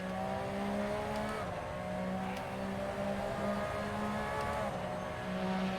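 A Porsche 911 RSR race car engine in a racing video game at Road Atlanta, a sustained droning exhaust note that steps through gear shifts with brief dips and rises, loud and steady.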